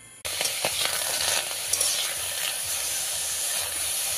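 Pulu frying in a hot wok (kerahi), with steady loud sizzling and hissing broken by stirring scrapes, close and alone.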